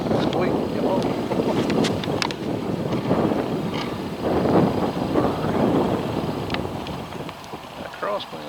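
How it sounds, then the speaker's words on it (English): Strong crosswind buffeting a small training aircraft on a cold, windy day, a loud continuous roaring rush of wind and engine noise with gusty swells, voices speaking over it. "That crosswind's a little stout."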